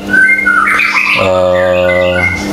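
A white-rumped shama calls loudly and close by, a few sharp squawky notes followed by a sustained clear whistled tone.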